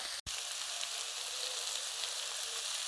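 Shallots sautéing in oil for a chicken curry, a close, steady hiss of frying that runs unbroken apart from one tiny dropout near the start, with no voices.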